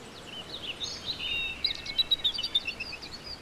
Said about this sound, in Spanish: aquí solo escuchas sonidos suaves de aves